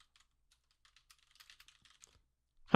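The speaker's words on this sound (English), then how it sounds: "How about some aggressive typing?" Fast, aggressive typing on a computer keyboard, a quick run of sharp, faint key clicks in near silence, ending with a louder thump.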